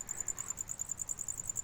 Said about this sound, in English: As you can hear them chirping, only the males chirp